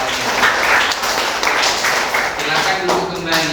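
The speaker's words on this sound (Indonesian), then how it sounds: "Oke, tepuk tangan untuk kita semuanya." A school class claps together in a classroom during a teaching session, a short burst of mixed clapping with voices mingled underneath.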